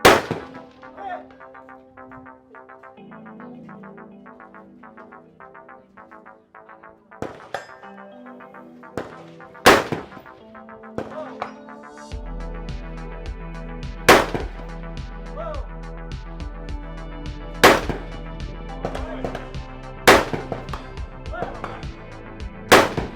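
Rifle shots fired at steel targets up a hill at 330 to 550 yards in a high desert shooting match, heard as several sharp, loud cracks spaced seconds apart with faint distant metallic clangs, over a low rumble and steady background noise.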